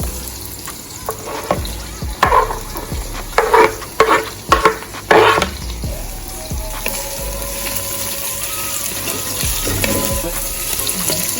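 Onion and sweet peppers hitting hot carrot oil in a pan, several bursts of loud stirring and clattering followed by a long, even, close-up sizzle, no voices.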